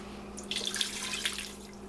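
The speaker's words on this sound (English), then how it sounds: "Alright, that's 4 cups of water, roughly." Water poured into a pressure cooker for chicken, a short splashing pour over a steady low hum, fairly close and moderately quiet.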